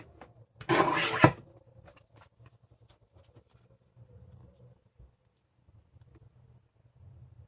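One short, sharp sliding swish of a paper trimmer blade cutting a paper strip, close and brief, followed by faint handling sounds and quiet room tone.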